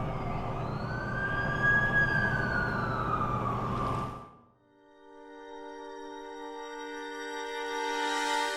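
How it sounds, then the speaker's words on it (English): A wailing ambulance siren in The Amazing Spider-Man 2 video game sweeps up and down under a low engine rumble, fades out, then a steady electronic siren tone rises again and grows louder. "That's the ambulance I called."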